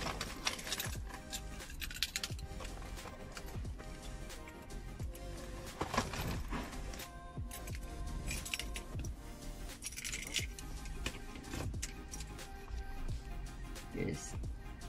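Keys jangle and clink as a car key goes into the ignition of a Perodua Myvi, small metallic rattles repeated close up over a quiet cabin, with faint talk.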